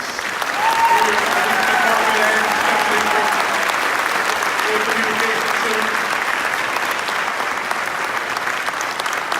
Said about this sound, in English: Another round of applause for our warriors.